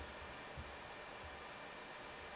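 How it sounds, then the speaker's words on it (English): A computer fan runs inside a DEC Multia PC, giving a faint, steady broadband whoosh with an even airy hiss and no change in level. "This fan doesn't make that much noise."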